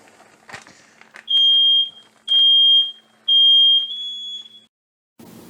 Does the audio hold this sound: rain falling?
no